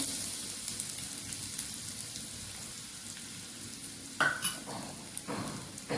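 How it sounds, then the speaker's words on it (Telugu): Carrot and cabbage fry in about two spoons of hot oil with a steady soft sizzle, and a few louder stirring scrapes come near the end. "ఎర్రగడ్డలు, టమోటాలు ఇది బాగా ఫ్రై చేసేసుకోవాలి."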